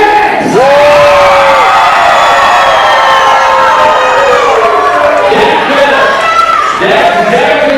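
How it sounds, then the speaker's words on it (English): A wrestling show crowd roars and cheers loudly and continuously, with whoops and shouts rising over the din and a shrill whistle near the start. "We want to hear that kind of cheering for our show"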